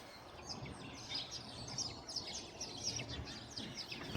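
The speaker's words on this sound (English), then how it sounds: "Magpie." A magpie calls in an open rural setting near cattle, its chirping, warbling notes repeating faintly at a distance over a soft background hiss.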